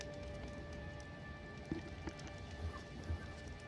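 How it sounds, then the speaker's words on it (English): Steady rain falling in the background of a tabletop game session, a faint continuous patter with a few soft thuds, no voices. "I don't like the rain."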